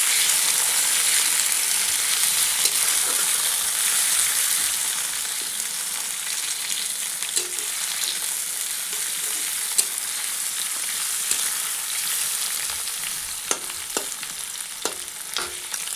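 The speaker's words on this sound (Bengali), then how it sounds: "পেঁয়াজগুলো লাল লাল করে ভাজি নেব।" Chopped onions fry in oil in a village kitchen, a steady loud sizzle with occasional clicks and scrapes of stirring, no voices.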